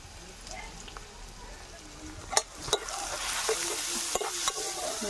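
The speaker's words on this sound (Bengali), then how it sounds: "আদা রসুনটা দিয়ে দেব।" Ginger and garlic sizzle in hot oil with sliced onions as they are stirred in a pan, a steady frying hiss broken by a few sharp clicks of the spatula against the pan.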